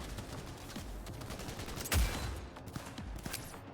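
Video game gunfire in Cyberpunk while shooting at a boss's guns, a steady rattle of rapid shots with one heavier blast midway, all moderately distant and even.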